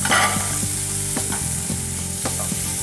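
Chicken thighs briefly searing in a pan, a continuous close sizzle broken by a few scraping stir sounds and light clinks, with no talking.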